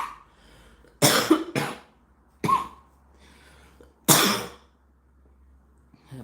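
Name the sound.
cough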